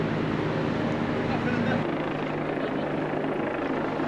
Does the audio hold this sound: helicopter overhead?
yes